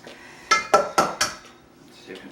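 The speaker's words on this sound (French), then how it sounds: "Tu peux commencer à brasser ça ensemble." Two eggs and liquid ingredients for pumpkin cookies being stirred together in a bowl, giving four sharp, close clinks and knocks in quick succession followed by a softer tap, with faint background voice.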